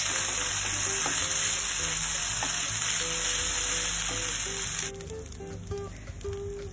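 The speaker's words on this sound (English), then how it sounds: "there's some vegetable. I'm gonna stir fry them together" Mixed vegetables stir-fried in a pan, a loud continuous close sizzle with clinking spatula strokes against the pan, dropping sharply in intensity partway through as stirring continues; no speech.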